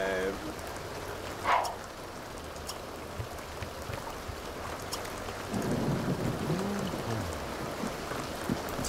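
Rain falls steadily in The Sims 2 video game, a continuous close hiss of drops with a brief rumble of thunder early on and a voice speaking softly in the background.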